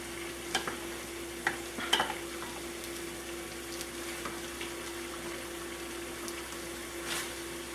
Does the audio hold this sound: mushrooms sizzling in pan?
yes